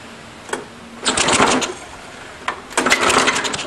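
A garbage-picked lawn mower is given a start attempt with two rattling pull-cord bursts, each about half a second long, separated by quiet. Each burst is preceded by a sharp click, heard close up.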